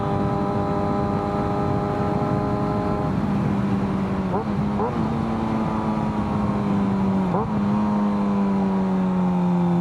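A motorbike engine holding a steady drone while rolling into a third-gear wheelie, with pitch shifts as the gears change and a voice speaking over it.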